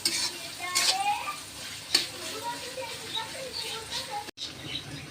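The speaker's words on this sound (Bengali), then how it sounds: "ভিমবার একটু নেও, খুসখুস খুসখুস হয়ে গেছে হাঁড়ি পাতিল ডলা।" Pots and pans scrubbed with a Vim dishwashing bar: a steady, rough rubbing and scraping with a few sharper metallic scrapes, close by, with faint voices in the background.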